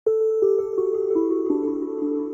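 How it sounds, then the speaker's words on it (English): Lo-fi piano chord progression run through a bit crush effect, sustained tonal chords changing every half second or so, steady and upfront with no voices. "The bit crush sounds like this, by the way."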